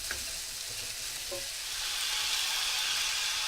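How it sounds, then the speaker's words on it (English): Cauliflower hisses and sizzles steadily in a hot, crowded frying pan, a broad continuous crackle that swells slightly toward the end, with faint stirring knocks early on and no voices. "We're going to add the cauliflower to this, and the pan will get pretty full"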